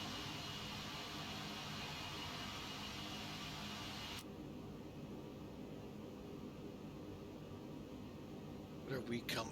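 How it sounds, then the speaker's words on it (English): Steady broadband engine and cabin drone of an X-Works A330-200F freighter in the X-Plane 12 flight simulator. It runs unbroken for the whole stretch, with a sudden drop in brightness partway through and a few brief clicks near the end. "Hey, look, the airplane really does have sound."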